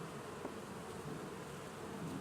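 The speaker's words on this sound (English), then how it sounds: "This one here is just a frame with some bees on it." A steady, even hum of honeybees buzzing on a frame from a double-deep hive, continuous and fairly faint throughout the short stretch, with no voices.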